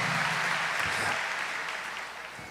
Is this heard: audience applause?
yes